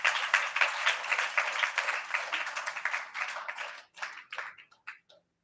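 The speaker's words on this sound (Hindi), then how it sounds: "एक बार ताली बजाओ परमेश्वर के लिए" A church congregation at a Friday meeting claps together, a lively patter of many hands that holds steady, then thins into scattered, fading claps before stopping.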